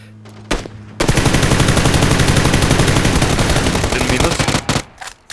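Rapid automatic gunfire erupts in a long, dense burst lasting several seconds, loud and close, after a couple of brief sharp shots, in the video game PUBG.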